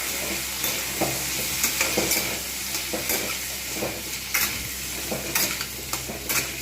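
Pumpkin pieces and soaked chickpeas fry in soybean oil, giving a steady close sizzle broken by frequent spatula scrapes and stirring knocks against the pan.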